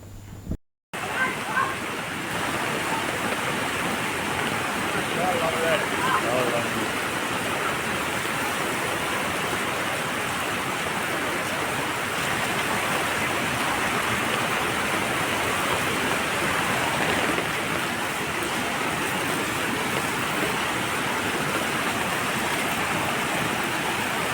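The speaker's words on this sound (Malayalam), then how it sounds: "കനത്ത മഴയിൽ കരുവാരക്കുണ്ടിൽ മലവെള്ളപ്പാച്ചിൽ പുഴകൾ കരകവിഞ്ഞതോടെ വീടുകളിലും വെള്ളം കയറി" Flash-flood torrent surging through Karuvarakundu after heavy rain, a loud, unbroken roar of rushing water filling the whole stretch after a brief gap at the start.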